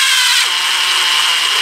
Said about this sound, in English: You're going to have to put some pressure on them because you're cutting threads into that diff case.